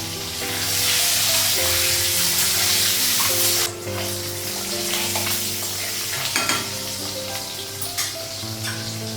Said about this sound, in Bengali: ডিমটা রান্না ডিমটা ভেজে গেছে